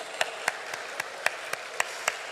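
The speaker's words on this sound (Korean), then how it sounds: "축복하고 박수하겠습니다" A congregation claps at a Friday night church worship service, a wash of applause with a sharp rhythmic beat running through it, moderately loud and free of speech.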